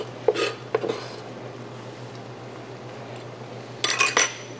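Knife scraping and clattering across a wooden cutting board while clearing chopped herbs, with a few sharp clacks at the start and a louder burst near the end over a steady low kitchen hum.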